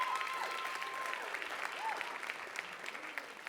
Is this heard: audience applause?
yes